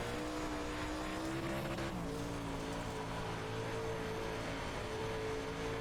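A UMP modified race car in iRacing at Eldora Speedway's dirt oval, its engine a loud, steady, high-revving roar with sustained harmonic drone, slight pitch shifts as throttle changes, and no speech.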